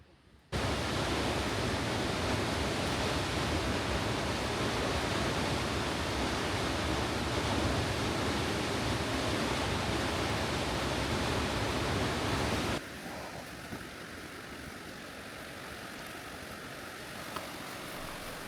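Punchbowl Falls on Eagle Creek in Oregon, seen from a high viewpoint: a steady, loud broadband roar of falling water that drops to a softer, more distant rush about two-thirds through.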